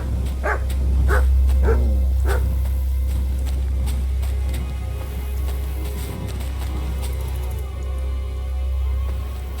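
Mutt the dog barks in Kingdom Come: Deliverance II, four sharp barks in quick succession near the start over a steady low ambient hum, followed by quieter background noise.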